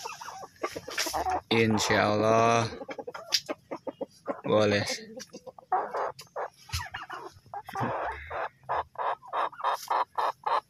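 A Cemani hen, brooding turkey eggs, clucks and gives drawn-out, wavering calls, fairly close, while a person speaks briefly alongside.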